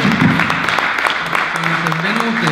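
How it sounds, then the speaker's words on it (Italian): Audience applause at an academic debate, sustained clapping from a seated crowd, moderately loud, with a voice speaking over it. "Vorrei un applauso per le"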